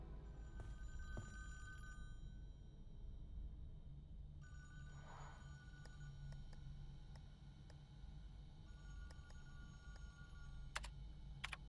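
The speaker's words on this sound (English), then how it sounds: "where's that phone coming from?" A telephone rings in the Friday the 13th video game, bright electronic bursts repeating in sequence at a moderate distance, with scattered clicks and a low ambient hum underneath.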